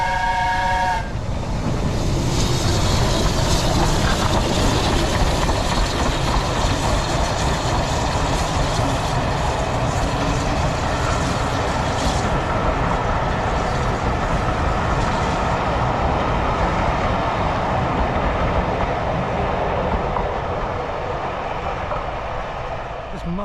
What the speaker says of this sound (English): Must be the train that runs from Kingswear opposite Dartmouth.